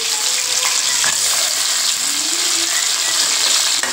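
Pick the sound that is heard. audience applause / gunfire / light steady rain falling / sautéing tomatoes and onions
sautéing tomatoes and onions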